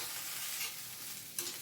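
Bitter gourd fries uncovered in a pan while being stirred, giving a soft, steady sizzle with brief scraping stirs, one near the middle and a sharper one toward the end.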